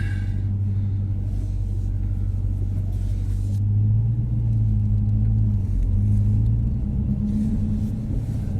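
A 2019 Dodge Challenger R/T Shaker with a six-speed manual pulling away gently from a dealership lot, a deep steady engine rumble that swells slightly as it moves off, heard from inside the cabin.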